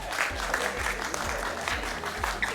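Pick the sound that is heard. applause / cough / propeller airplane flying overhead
applause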